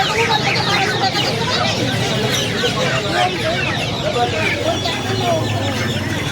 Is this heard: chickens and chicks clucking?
yes